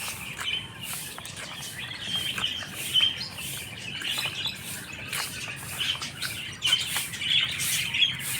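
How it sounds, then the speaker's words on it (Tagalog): Many caged lovebirds chirp and tweet continuously at a moderate distance, a busy overlapping chatter of short high calls with occasional louder squeaks. "Mga lovebird. Ang dami nga yan."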